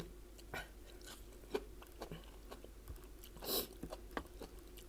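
Someone bites and chews foraged wild vegetables such as Japanese fern shoots, giving several crisp, close crunches scattered across a quiet background.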